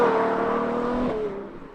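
A Ferrari 812 GTS convertible's V12 engine holds a steady, fairly loud drone that dips slightly in pitch as it idles or cruises, with no voices over it.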